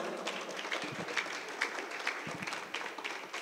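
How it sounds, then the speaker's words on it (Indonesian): An audience at a Gen-Z writing workshop in a mosque library applauds, with dense sustained clapping from a roomful of people, fairly close and continuous. "Boleh tepuk tangan untuk kita semua."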